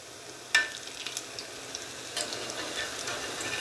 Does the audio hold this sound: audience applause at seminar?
no